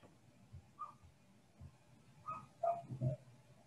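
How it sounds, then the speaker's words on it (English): A neighbour's dog barking on the other side of a wall at home, several muffled, distant yips and whimpering barks scattered irregularly over a quiet room hum. "I apologize if you can hear my neighbor's dog barking through the wall."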